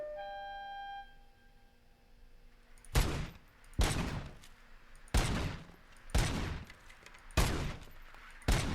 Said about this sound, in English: I just want to see what explosive rounds do here.